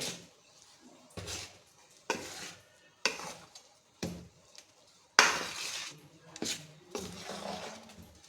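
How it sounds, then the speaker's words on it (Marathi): Grated pumpkin is mixed into a sweet dough for pumpkin vade, with a series of wet slapping and scraping stirs in a bowl arriving roughly once a second, close, with quiet gaps between strokes. "आता त्याच्यामध्ये हा भोपळा टाकू. आता आपण मिक्स करू."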